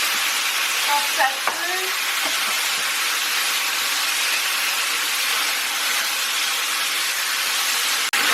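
Beef sizzling in a hot wok for a pepper beef stir-fry, a steady loud frying hiss throughout with a few brief clanks and a short spoken remark over it.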